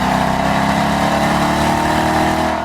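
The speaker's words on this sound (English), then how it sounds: "Its heavy V8 also makes the most sweet, caramely V8 noise of any car here" A deep, rumbling V8 muscle car engine idles and revs steadily up close, loud and continuous with a throaty low-end growl.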